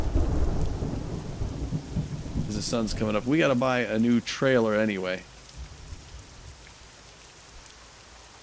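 A thunderstorm with rain in American Truck Simulator, with a loud low rumble and rain hiss at the start, then someone talks over the weather before it drops to a faint, steady rain.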